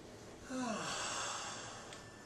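A person demonstrates a slow, deliberate breath, one audible sigh-like exhale with a faint voiced edge, close and fairly soft, trailing into quiet room tone.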